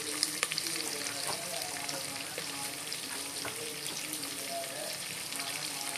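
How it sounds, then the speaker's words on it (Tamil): Onions sautéing in a pan for tomato rice, a steady, even sizzle heard up close with a few faint clinks, no talk. "வெங்காயம் நல்லா வதங்கணும்."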